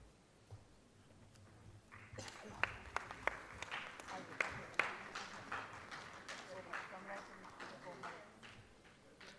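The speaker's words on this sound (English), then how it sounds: "The clap should not die down." An audience claps in a hall at a university health sciences research conclave; steady clapping begins a couple of seconds in with a few sharp, louder claps, continuing under a voice speaking.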